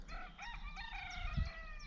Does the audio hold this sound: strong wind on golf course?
no